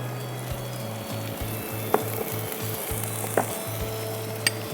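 Onion and onion paste frying in hot oil, a continuous close sizzle with soft stirring clicks and a few sharp pops, over a steady low hum and no voices.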